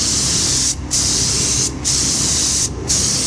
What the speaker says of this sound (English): And it's this face here I'm interested in getting some spray on.